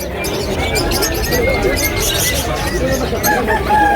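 Many chickens cluck and call over one another in the crowded, noisy chicken section of a pet market in Malabon, with a rooster's crow rising through the din and voices talking underneath.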